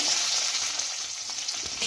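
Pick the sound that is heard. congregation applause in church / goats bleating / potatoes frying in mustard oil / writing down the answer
potatoes frying in mustard oil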